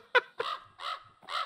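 Cartoonish bird in the farming game Pumpkin Panic, four short harsh caws in quick succession, close and moderately loud, each a rough throaty call with brief gaps between.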